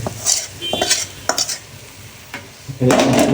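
Hot tempering of dried chili and spices is poured into pickle, making bursts of sizzling with metal utensil clinks and scraping, ending in a louder sustained sizzle.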